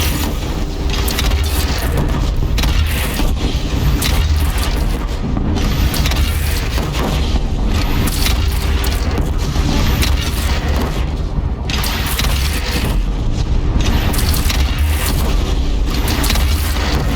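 Cannon fire and battle noise from the video game Horizon Zero Dawn: The Frozen Wilds, heard as a dense, loud, continuous rumble of booms and crashes with no voices over it.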